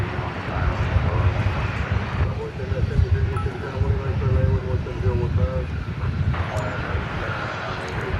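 An American Airlines Airbus A320 bound for San Antonio at DFW Airport gives a sustained jet engine roar with a low rumble, while a voice talks over part of it.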